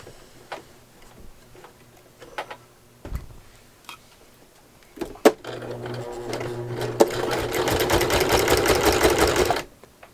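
A sewing machine stitches a quilt, running steadily for several seconds with a fast mechanical whir, after a few scattered ticks and clicks of handling.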